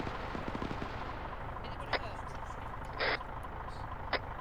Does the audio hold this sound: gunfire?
yes